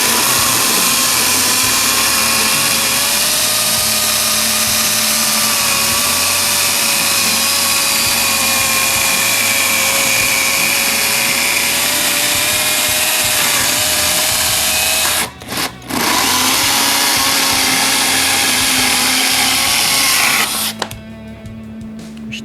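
A Worcraft CHS-S20LiB battery mini chainsaw cuts wood with a loud, close, continuous motor drone. The sound dips briefly partway through and then cuts out near the end.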